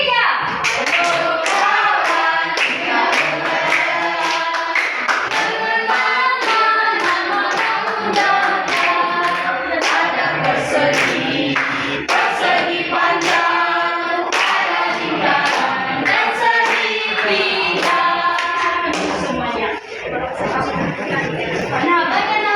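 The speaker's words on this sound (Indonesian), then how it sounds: "Sambil tepuk tangan ya." Rhythmic hand clapping keeps time along with a group singing a song, steady and close, claps mixed under the voices throughout.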